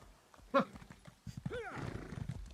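A shrill horse whinny from the video game Elder Scrolls Online rings out briefly, followed by a longer neighing call with trailing hoof clatter, slightly synthetic in tone, with some talk in the background.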